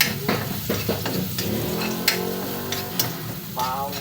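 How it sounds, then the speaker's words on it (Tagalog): Garlic sizzles and fries in a pan for pakbet, a close, steady crackling hiss with occasional stirring scrapes and clicks of a utensil. "Gisahin ang gulay sa bawang, sibuyas, kamatis."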